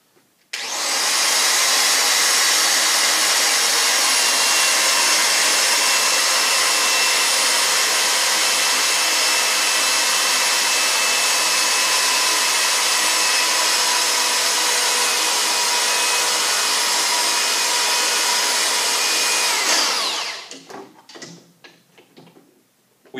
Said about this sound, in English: we're going to use our open palm to apply pressure to the die head to start the thread.